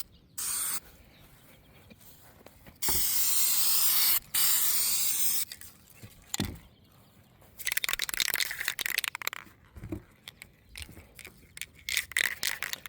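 Several bursts of spray paint hissing from an aerosol can held about 6 to 8 inches from a towel, some long and steady, others short and sputtering, close up with gaps between them.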